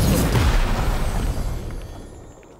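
A one-shot time rift opening effect for a game, played back in FMOD, starts as a loud, deep booming burst and fades away over a couple of seconds with no talk.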